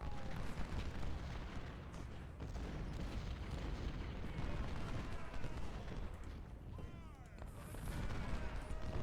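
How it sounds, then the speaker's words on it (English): Artillery and musket fire in the Civil War strategy game Ultimate General Civil War at Antietam, a dense continuous roar of booms and crackling gunfire throughout, with a voice talking over it. "my artillery is just driving these guys back"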